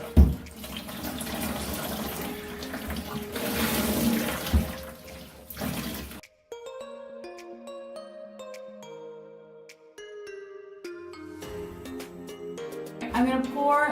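Dyed fabric for a classroom IKEA chair makeover is rinsed and wrung under a running tap, a loud steady rush of water that cuts off midway before splashing resumes, with background music.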